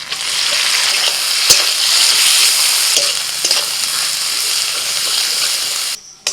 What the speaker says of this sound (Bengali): এই পেঁয়াজ ভাজার মধ্যে দিয়ে দিচ্ছি আমি এই বাটাটা